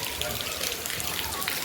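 Heavy rain falls steadily outdoors at a home in Gujarat, a dense even patter with scattered drips heard close by throughout.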